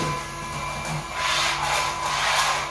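A vacuum cleaner runs steadily with a whining motor drone, its pitch and loudness rising partway through, loud and close with no talking.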